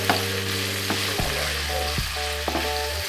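Garlic and onion sautéing in a pan for Filipino beef steak, a loud close frying hiss with spatula scrapes, plus a steady low hum and a few knocks.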